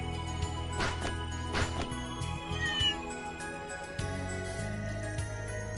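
A cat meows a few times in the video game Trails Through Daybreak, short close mewing calls over soft steady background music and ambience.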